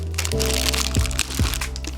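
A security seal on a Lenovo S345 Chromebook box is broken open with a couple of sharp cracks and plastic crunching over a steady background hum, close and fairly loud.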